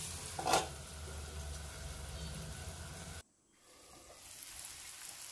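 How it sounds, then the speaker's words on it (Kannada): Ivy gourd (tondekai) fries in a little oil in a pan over a gas flame, giving a soft, steady sizzle that cuts off abruptly partway through, then returns more faintly. "2-3 ಸಲ ಪಲ್ಟಿ ಮಾಡಿ ಮಾಡಿ ಫ್ರೈ ಮಾಡಿ ತಗೊಂಡೆ"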